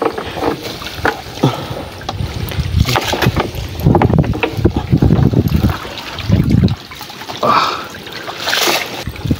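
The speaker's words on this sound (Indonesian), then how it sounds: "ini ada ada anginnya ya guys" Wind gusts buffet loudly across open sea from a small boat while out catching shrimp with bubu naga traps, a close, blustery rumble with splashing water that swells and fades unevenly, with no speech.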